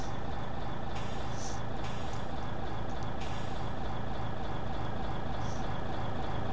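A heavy 6x6 truck, the Auriga Oryx, in a video game releases three sharp hissing bursts of air brake over a loud, steady engine drone.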